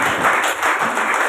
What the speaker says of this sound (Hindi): आप सभी से अनुरोध है, जोरदार तालियों से अपने मन के भावों को